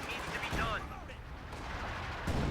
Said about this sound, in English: Got a barrage with him support gun here, causing him to retreat all his men.